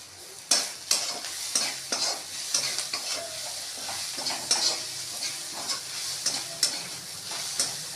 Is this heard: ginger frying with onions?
yes